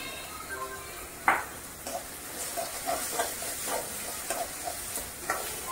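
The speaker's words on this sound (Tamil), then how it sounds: "போட்டு வதக்கவும்." Tomatoes with salt sautéing in a pan for sambar, a soft continuous sizzle and hiss with occasional light stirring taps, fairly quiet and close, no voices.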